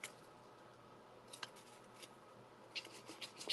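Quiet scissors snip through a paper card panel during card making, with a few soft, faint cuts and rustles near the end and no talking.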